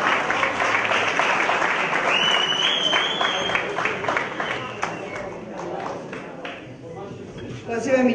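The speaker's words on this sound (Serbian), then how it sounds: "Aplauz" Applause from an audience at a high school oratory competition in Vranje, greeting a speaker who has just won a prize. Dense, steady clapping runs throughout at close range, with a brief whistle-like tone partway through.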